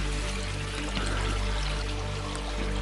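Water from a garden waterfall beside banana plants trickles and splashes in a steady, unbroken wash, with a low hum running beneath it throughout.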